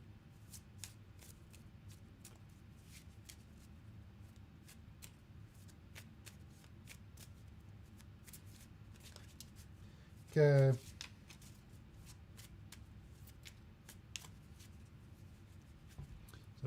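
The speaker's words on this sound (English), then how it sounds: "So we're going to shuffle this stack again." A stack of cards for a solo board game being shuffled by hand, soft rapid riffling and tapping clicks running quietly throughout, with one brief louder clatter and a single short spoken word.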